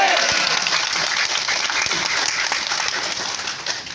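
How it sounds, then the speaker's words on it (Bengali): Audience applause at a Ceragem event in Feni, a dense, steady clapping from a crowd that holds for about four seconds and fades slightly at the end. "কি জোরে সেরাজেনের জন্য একটা তালি হবে?"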